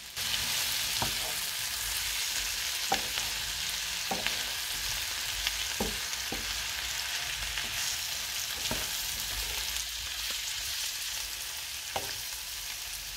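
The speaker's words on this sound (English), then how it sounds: "We'll give it a quick stir." Mushrooms and carrots with coriander sizzle steadily in an oiled pan, a loud continuous fry broken by occasional scraping clicks of stirring up close, with no talk.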